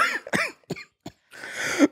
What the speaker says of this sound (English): I'm about to be coughing up a storm